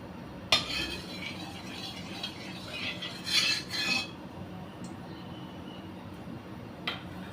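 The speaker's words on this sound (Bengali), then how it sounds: "তেলটাকে এবার নাড়িয়ে দিই" A utensil scrapes and clinks in a pan of a little oil, with a few sharp metallic knocks and short bursts of scraping over a quiet kitchen background, no talk.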